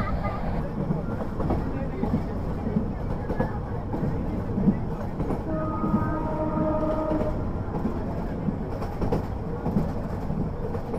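A Parjatak Express passenger train runs at about 80 km/h between Dhaka and Cox's Bazar, giving a steady, continuous rumble and rattle of carriages heard from inside throughout.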